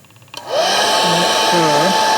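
Hair dryer drying a watercolor painting clicks on and settles into a loud, steady blowing whir close by, its pitch wavering slightly as it moves over the paper.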